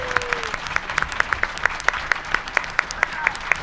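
A small audience claps in a sparse round of applause at a Vancouver event, distinct individual claps in an uneven rhythm, moderately close, with no talking over it.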